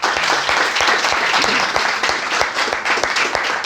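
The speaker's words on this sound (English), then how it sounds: "A bit of round of applause." An audience at an English-language and IELTS preparation institute in Lahore gives a steady round of applause, dense clapping sustained evenly and loudly throughout.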